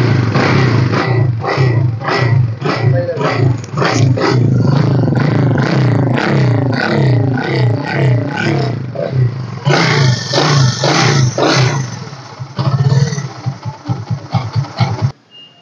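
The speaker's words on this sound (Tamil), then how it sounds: "இது வந்து வாங்க கிக்கரில் ஸ்டார்ட் பண்ணி காமிக்கிறேன்." A 2016 Vikrant V15 motorcycle, a disc-brake, alloy-wheel self-start model with a flat battery, is kick-started and its single engine settles into a loud, close, throbbing idle with rhythmic pulses and occasional revs.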